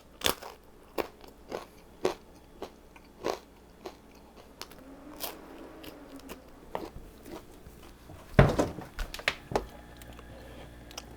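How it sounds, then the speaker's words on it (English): A bite into crunchy thin-crust Great Value pepperoni pizza, heard as a close series of sharp crunches at a steady pace, then one louder burst of crackling chewing, with no talking. "It's crunchy, really thin crust."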